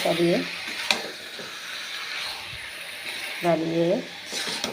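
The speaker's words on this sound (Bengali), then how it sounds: "মাংসটাকে লাড়িয়ে" Meat being stirred in a cooking pan during home cooking, giving scraping, clattering spoon strokes with a light sizzle underneath and a few louder close stirring bursts.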